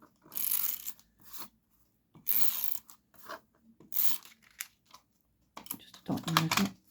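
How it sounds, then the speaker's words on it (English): Dotty tape runner rolling adhesive dots onto card, several short rasping, crackly strokes separated by pauses, close and fairly loud, ending in a denser scraping burst. "while that's drying, I'll use my dotty tape runner"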